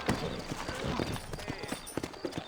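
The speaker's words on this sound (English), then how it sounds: "You ain't gonna find sturdier horses than these in all of New Austin." Horses' hooves clip-clop steadily in Red Dead Redemption as riders set off through a frontier town in New Austin, a brisk close rhythm of hoofbeats with a brief whinny and faint voices underneath.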